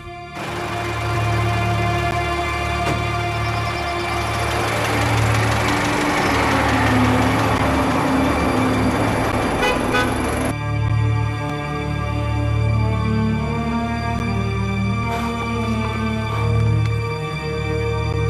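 A steady car engine drones loudly throughout a city drive, with a sustained buzzing note rising in the middle and the engine tone shifting partway through; no distinct horn stands out.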